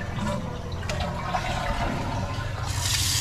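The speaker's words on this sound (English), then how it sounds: "Flush." A toilet flushes in a new, very clean hotel bathroom, a steady rushing gush of water that holds close and loud before it swells into a brighter hiss of refilling at the end.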